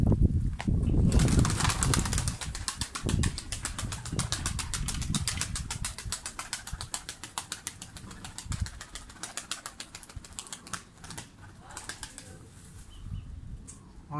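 Pigeons flutter and coo close by, with rapid wingbeats and soft cooing running steadily throughout, thinning out toward the end.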